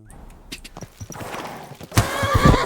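In the medieval game Kingdom Come: Deliverance 2, a horse's hooves clop unevenly at close range, and then a loud neigh breaks out and carries on to the end.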